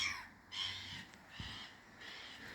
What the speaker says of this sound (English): seagulls chasing each other about